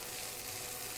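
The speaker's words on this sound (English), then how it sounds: "we're going to take our onion, add it to the celery, and saute that down" Onion and celery saute in a pan with a dense, even sizzle that stays loud and constant throughout a brief moment.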